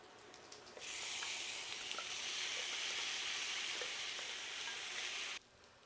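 Vegetables and sausage added back to a pan of garlic potatoes for a Finnish potato hash, setting off a sudden steady sizzle with faint stirring clicks that holds for several seconds and then cuts out abruptly, with no talk.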